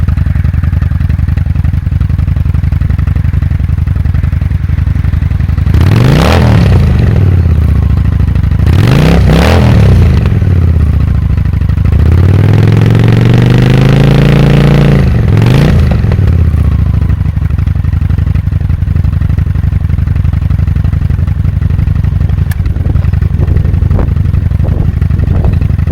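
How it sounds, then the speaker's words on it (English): A Honda VT750 Shadow idles loudly through cheap aftermarket mufflers, blipping its throttle in several rising revs while a phone placed close to the exhaust rattles and buzzes against it. "Exhaust is hitting the phone, rattling it around."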